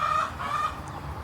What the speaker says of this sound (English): Pardon the noise from the chickens.